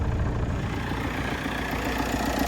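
A Ford Capri X-Pack engine idles after a drive, giving a steady, deep, close rumble with a fast even pulse that keeps going without a break.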